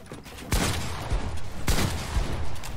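Fortnite gunfire with two sharp, loud shots about a second apart cutting through a steady, noisy game background.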